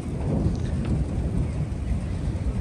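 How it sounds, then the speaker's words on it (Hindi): Low thunder rumbles steadily from storm clouds over the Neelum valley near the India–Pakistan Line of Control in Kashmir, a continuous deep roll with rain-like hiss above it and no voices. "साउंड चेक करो बादलों के गरजने का"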